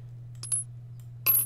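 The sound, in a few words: coin dropping, from the video game Plug and Play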